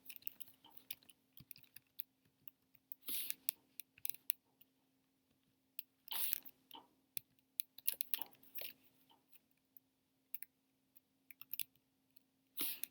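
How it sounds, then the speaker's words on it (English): Typing on a computer keyboard: quiet, close clicks and clustered bursts of keystrokes with short pauses between, over a faint steady electrical hum. "you're going to start typing in stories."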